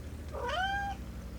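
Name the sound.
cat meowing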